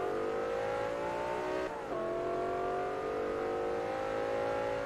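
BMW engine in Forza Motorsport 3 revving steadily at high pitch, briefly dropping off around the middle as the car shifts, then climbing again, loud and continuous with no talk.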